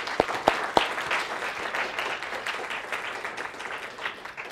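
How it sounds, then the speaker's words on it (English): Three sharp, close claps open a round of audience applause at an academic conference on gender and culture, then the crowd's clapping settles into a moderate, steady patter that slowly tapers off. "So if we could clap."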